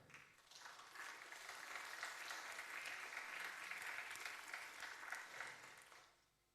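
A conference audience applauds at the end of a talk, a full, even round of clapping that swells in the first second, holds steady, then fades away near the end, heard from a distance without any talking.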